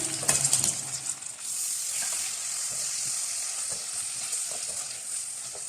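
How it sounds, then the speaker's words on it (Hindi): Steady close sizzling of minced meat frying with garlic and ginger in a pan, with a few scraping stirs and clinks near the start. "थोड़ा सा लहसुन अदरक के साथ फ्राई करने के बाद जो हमारे पास कीमा है, ये सारा कीमा इसमें डाल देंगे।"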